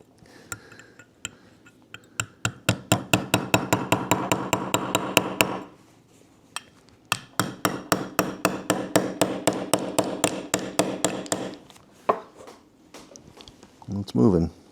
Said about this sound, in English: I might need to tap that down in there a little bit. My little ratchet driver here.